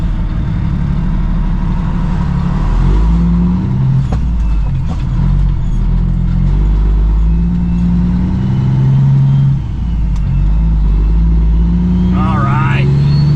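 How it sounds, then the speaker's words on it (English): A dump truck drives past a big rig waiting at the roadside, its heavy engine rumbling low and steady, while someone talks over the idling cab noise throughout. "we're just gonna wait for Mr. Dump Truck here coming from our left to get his old dump truck past us"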